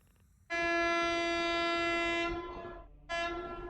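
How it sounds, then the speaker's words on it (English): A train horn blares outside near a bridge, one long sustained blast followed by a second shorter one, loud over a quiet room background. "Apologize for the honking."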